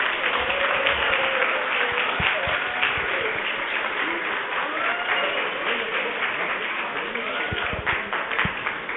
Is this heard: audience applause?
yes